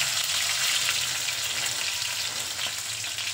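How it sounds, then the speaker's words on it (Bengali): Chopped tomatoes hit 100 grams of well-heated oil for khichuri. The loud, close frying hiss is dense and steady, and it eases only slightly over a few seconds, with no voices. "তেলটা খুব ভালো করে গরম করে নিয়ে দিয়ে দিচ্ছি টমেটো কুচি।"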